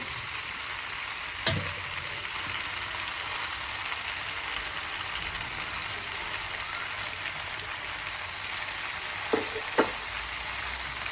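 Pasta frying in a pan with mayonnaise stirred in, giving a steady close sizzle with scraping stir sounds and a few sharp clinks of a utensil against the pan.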